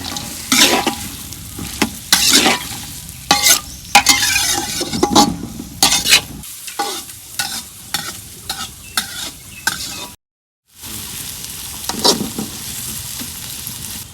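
Onion, garlic and green chili frying in hot oil for a river pangas fish curry, a steady loud sizzle broken by repeated stirring scrapes, with a brief silent gap near the end.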